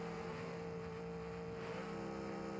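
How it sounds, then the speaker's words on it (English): A race car engine revs in a virtual racing event, a sustained droning motor tone that holds steady and then shifts slightly in pitch partway through, continuous and moderately loud, with no talking. "That is another car revving."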